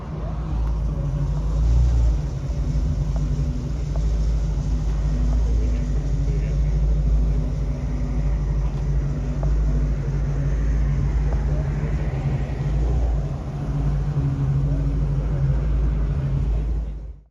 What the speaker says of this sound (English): Here comes my friend's nice 66 Mustang.